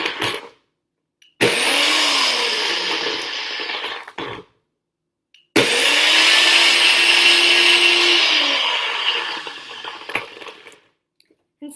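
A blender roars in two long bursts, loud and grinding as ice is crushed, with brief silent pauses between runs.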